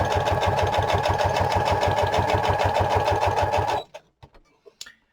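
Sewing machine stitching around the edges of a paper card, a fast, loud, steady mechanical whirr that runs for nearly four seconds, then stops, followed by a few soft handling clicks.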